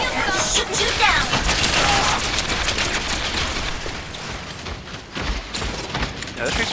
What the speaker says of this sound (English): as soon as you hear tracers, just like flick your DM up